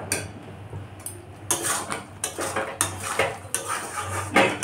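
Poppy seed paste being stirred in a pan, a spoon repeatedly scraping and clinking against the metal in uneven strokes, close and fairly loud, with a faint sizzle beneath.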